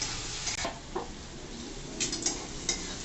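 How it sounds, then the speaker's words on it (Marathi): Tomatoes are sautéed in a pan while being stirred, with a soft continuous sizzle broken by scraping spatula strokes and a few light clinks against the pan, fairly quiet and with no voices. "टोमॅटो पण चांगला परतवून घ्यायचा"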